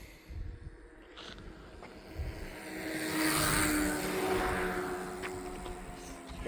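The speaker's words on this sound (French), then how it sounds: "Une voiture" A car approaches and passes close by on a road in Asturies between Ribadesella and Villaviciosa, its engine swelling to a broad rush and fading again.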